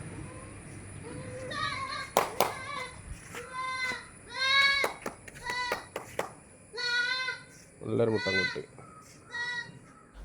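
A young goat bleats repeatedly in short, high, wavering cries, close by, with some faint background activity between calls.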